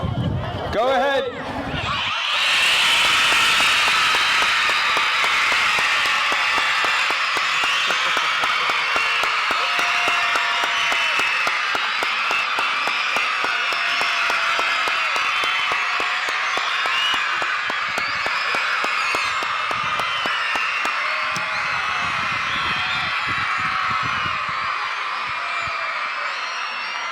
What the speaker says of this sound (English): Stand up and let's give our veterans the loudest cheer that they've ever heard.